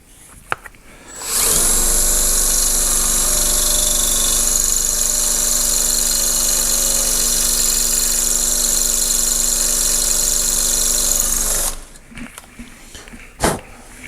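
A power drill bores with a titanium twist drill bit, a loud, steady high whine running unbroken for about ten seconds before cutting off, with a few faint knocks after it stops.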